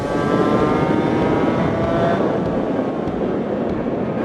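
A Suzuki RGV 250 two-stroke motorcycle engine revving hard on the throttle, a loud continuous buzzing whine with rising harmonics as the revs climb, heard alone with no speech.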